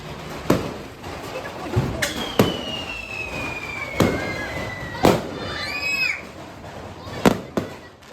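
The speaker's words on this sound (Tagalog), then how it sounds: "Naya, fireworks!" New Year fireworks bursting outdoors in Bayanan, a series of sharp booms spaced a second or so apart, with whistling and crackling trails and a distant crowd murmuring.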